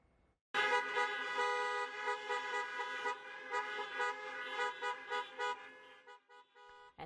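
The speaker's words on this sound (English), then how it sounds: "people stayed in their cars but honked their horns in Logan's honor" Many car horns honk together at a school stadium during an impromptu drive-in tribute, a sustained blaring chorus that breaks into shorter, pulsing toots as it winds down, moderately distant.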